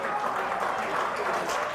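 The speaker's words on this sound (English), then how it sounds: "Great response from the home side. Home crowd in applause." A home crowd at an NTK against Hamilton rugby match applauds a try, giving a brief, steady wash of clapping with a commentator's voice over it.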